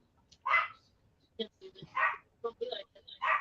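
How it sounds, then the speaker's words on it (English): A female dog makes soft, high whimpers in short separate bursts, trying to wake a sleeping man during a storm, with someone talking nearby. "Do you hear my dog? She's trying to wake my husband up."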